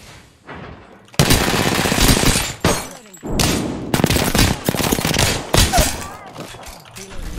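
Rapid gunfire rattles in an Apex Legends firefight, loud bursts of automatic shots and sharp impacts starting after a quiet second, broken by short pauses, with a player's voice faintly mixed in.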